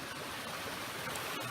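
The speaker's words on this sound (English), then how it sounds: "So this is Dismal Creek" Dismal Creek in Virginia rushes over rocks along a trail, a steady broadband wash of flowing water at moderate, even loudness with no voices.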